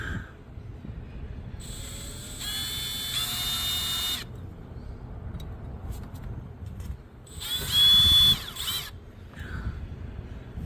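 A power drill bites into a broken oil filter cover bolt on a KTM motorcycle in two whining bursts of a couple of seconds each, close and loud, with quieter tool handling between them.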